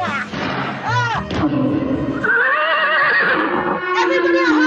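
Several loud, close horse neighs and whinnies with shaking, wavering pitch play as a storytelling sound effect, one after another with a thump in between and barely any pause.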